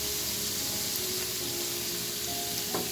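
Green capsicum, red onion, green onion and chopped green chili sizzle in a hot pan with already-fried chicken, a steady bright frying hiss with faint crackles and a small clink near the end.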